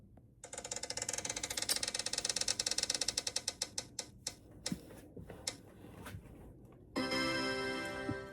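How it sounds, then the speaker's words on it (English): A prize spin wheel whirs and ticks rapidly, its clicks slowing and spacing out as it winds down to a stop, followed by a burst of bright electronic chiming, close and loud with no voices. "We might have to spin again."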